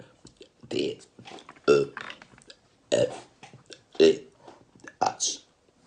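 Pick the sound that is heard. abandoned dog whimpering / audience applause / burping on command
burping on command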